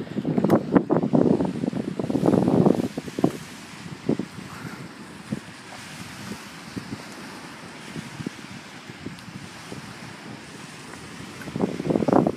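Lake waves wash and break against the shore, sounding like ocean surf, a broad rushing roar with wind buffeting the microphone and surges that rise and fall over several seconds, with no talking.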